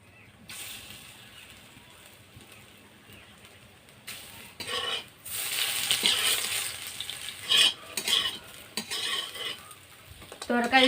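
Round balls of shrimp dough fry in oil, a continuous sizzle with scraping stirs and metal utensil clinks against the pan that grow louder and busier toward the end, with no voices.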